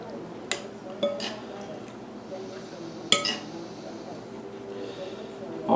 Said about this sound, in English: we stir it in, mix it up real good